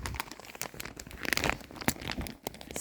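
A zipper being drawn open along a garment bag that holds a gown in a period costume closet, crinkly plastic rustling and crackling up close in short bursts, with no talking.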